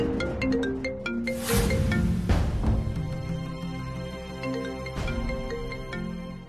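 A mobile phone ringtone plays a loud repeating melodic tune, with a few sharp bursts over it, in a tense household scene from a Bengali TV serial.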